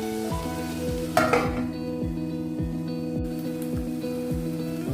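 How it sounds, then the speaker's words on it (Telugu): Onions frying in oil give a steady, close sizzle with a rhythmic scraping or stirring pattern repeating under it, and no talk over the sound. "అప్పుడు ఆయిల్ ఆనియన్ బాగా ఫ్రై అవుతుంది"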